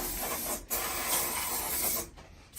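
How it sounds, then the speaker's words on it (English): Bursts of hissing spray from an aerosol can of silicone spray, close by, with two short pauses between sprays. "All I'm using now is a silicone spray."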